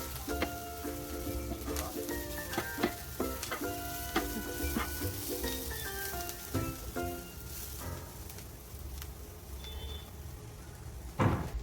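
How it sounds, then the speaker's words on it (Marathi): Onion fries in oil with a busy sizzle under frequent clattering stirs and knocks against the pan, near and fairly loud, with a heavier thump at the end. "कांदा असं थोडंसं मीडियम फ्राय झाला पाहिजे त्याच्यामध्ये."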